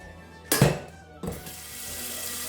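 Water gushes from a kitchen tap into a vessel to top up a home-brew fermenter for a Dutch lager, with two sharp bursts as the flow starts, then a steady close running stream.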